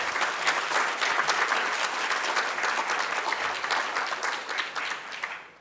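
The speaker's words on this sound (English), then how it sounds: "Could we all give him a big round of applause?" Sustained applause from an audience at a community civic association's 25th anniversary gathering, dense and steady for several seconds before tapering slightly at the end.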